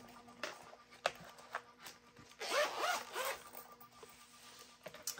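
A zipper on a small pencil case being pulled open, a quiet rasping zip of about a second, with a few soft taps and handling rubs before and after, close and faint.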